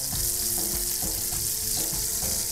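Finely chopped garlic sizzles steadily in butter in a pan, a continuous close crackling hiss with faint rhythmic scraping underneath, no voices.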